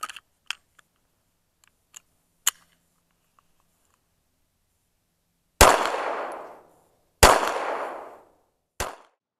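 Three loud Hi-Point pistol gunshots crack outdoors in a snowy setting at uneven spacing, each with a decaying echo, preceded by faint clicks and handling noises.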